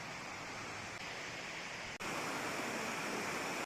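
At Kotthapalli waterfall, rushing water roars in a steady, dense wash that fills the whole moment without a break, loud and continuous with no voices.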